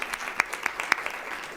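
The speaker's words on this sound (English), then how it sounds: "yes, let's give them a round of applause." Scattered clapping for district arts staff at a Broward County Public Schools event, a few sharp claps standing out over a thin, brief round of applause.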